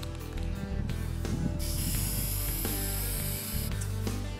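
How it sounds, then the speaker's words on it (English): Aerosol spray lacquer hisses from a can onto a painted window mirror frame in one long continuous burst, loud and close over a low background hum, ending with a brief pause and short resumption. "Now we're going to finish this up with some spray lacquer."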